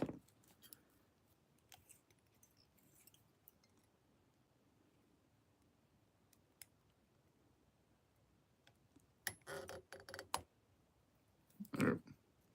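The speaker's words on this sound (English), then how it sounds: "Now we can trim that up." Scissors trimming material at a fishing fly-tying bench, a few faint, close snips and clicks scattered across quiet background, with a louder cluster of cuts near the end.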